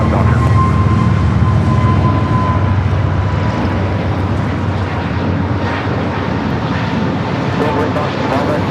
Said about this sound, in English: That is Frontier 3304 taking off to Phoenix on the A320neo Ichabod, the Whooping Crane livery.